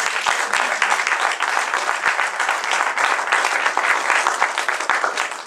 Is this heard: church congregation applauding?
yes